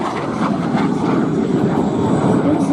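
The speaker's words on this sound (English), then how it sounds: "We got the MiG-17 coming around." A MiG-17 jet fighter coming around at an air show, its engine a loud, sustained roaring rumble that holds steady throughout.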